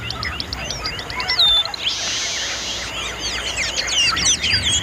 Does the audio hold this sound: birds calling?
yes